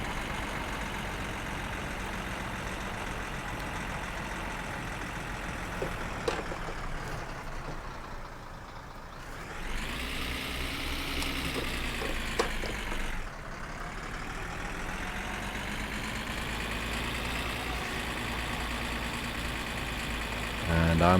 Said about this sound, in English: This van with its diesel engine is a bit more forgiving.